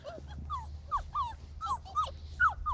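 Five-week-old Bernese Mountain Dog puppies whimper close by in a quick series of thin, rising whines and yips over a low, steady background rumble.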